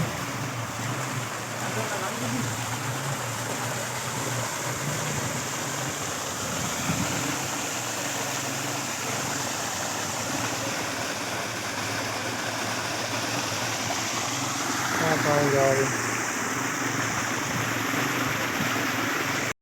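Broad, steady rush of rainwater and waterfalls pouring through a Kashmir valley after heavy rain, a continuous close roar holding even for the whole stretch, with a brief faint voice near the end.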